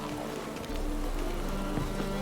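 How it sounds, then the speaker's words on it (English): Steady rain falls in The Witcher 3: Wild Hunt, a continuous hiss of drops that starts softer and swells slightly louder partway through, with no talk over it. "Let it rain. And it's raining again."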